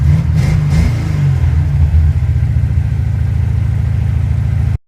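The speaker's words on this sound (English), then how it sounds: "It's idling real well." A carbureted car engine fitted with an Edelbrock 1405 carburetor, still cold and on partial choke, gives a brief throttle blip and then settles into a steady, loud, close, lumpy idle before cutting off abruptly.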